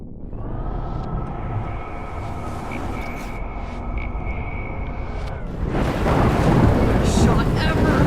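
A thunderstorm with rain rumbles in the Life is Strange video game, a continuous low roar of thunder and wind with a sustained tone over it, then a louder surge of rushing rain and noise after about six seconds.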